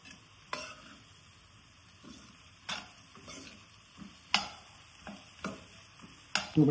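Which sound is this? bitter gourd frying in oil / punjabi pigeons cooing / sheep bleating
bitter gourd frying in oil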